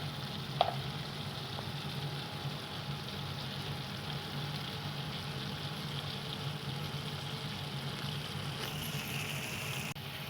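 Chicken sautéing in a pan with salt and curry leaves for a village-style chicken uppu kari gives a steady, moderately faint sizzle throughout, with one sharp clink near the start and a brief scrape toward the end.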